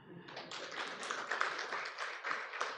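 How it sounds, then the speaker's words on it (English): Applause from a conference audience at a fintech event, a dense, steady patter of many hands clapping at once, held at a fairly even level throughout without pauses or talk. "Let's clap for this man."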